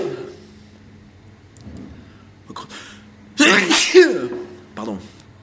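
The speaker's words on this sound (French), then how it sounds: "Attendez, je vais éternuer." A single sharp sneeze bursts out mid-sentence indoors, loud and close, with a man's quiet speech before it and a brief exclamation after.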